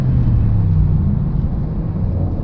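A 2021 Range Rover Sport SVR Carbon Edition engine drones as the car pulls away under steady throttle, a loud, even low rumble throughout.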